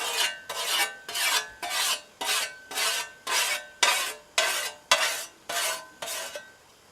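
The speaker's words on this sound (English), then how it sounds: "And then just to remove the burr on the other side." A file rasps over a burred metal edge in twelve even, scraping strokes, about one every half second, close and clear with brief gaps between each pass.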